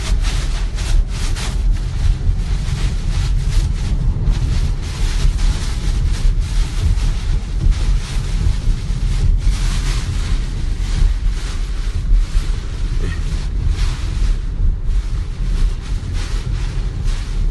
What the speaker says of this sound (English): I don't want no strong wind to lift me up and take me away.